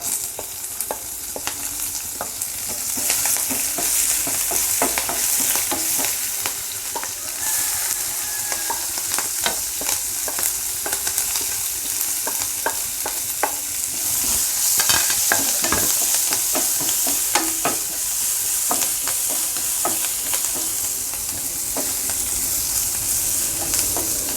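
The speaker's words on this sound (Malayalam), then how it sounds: "കറിവേപ്പില പൊട്ടിക്കഴിഞ്ഞാൽ ഉടനെ നമ്മുടെ ചെറിയ ഉള്ളി" Small shallots fry in hot oil right after curry leaves splutter, for a Kerala pineapple pachadi: a steady close sizzle with frequent crackles and scraping stir strokes throughout, and no one speaking.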